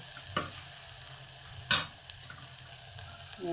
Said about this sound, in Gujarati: આપણે નાખશું છીણેલું બટેકું